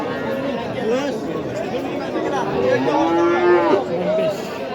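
Cattle low repeatedly at the Asaka livestock market in Uzbekistan, several loud, drawn-out moos close by over a constant hubbub of people talking and bargaining.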